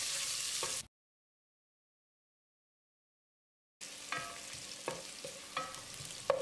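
Sliced onion sautés for rice in a pan, with a soft sizzle and scraping stirs heard close, broken by a long silent gap before the frying and spatula scrapes resume.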